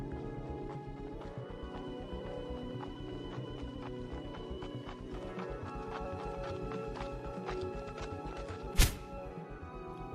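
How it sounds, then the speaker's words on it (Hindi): Cartoon horse hooves clip-clop in a quick, regular rhythm as a rider sets off, running throughout under steady background music, with a sharp bright hit near the end. "ये सारी बातें सोचकर वह अपने घोड़े पर सवार होकर निकल पड़ता है।"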